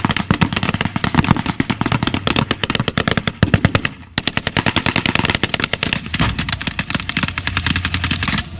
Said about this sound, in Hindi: यहाँ बंदूकें बोल रही हैं, तोप गरज रही हैं